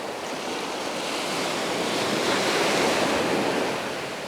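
Seascape waves wash onto a beach on a morning shoreline, a broad continuous roar of surf that swells and recedes, mixed with some wind buffeting the microphone, with no voices.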